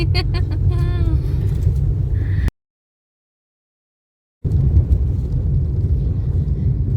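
Car driving, heard from inside the cabin: a steady low road rumble and engine drone fills the clip, with a brief voice at the start and a sudden dropout to silence midway before the rumble resumes.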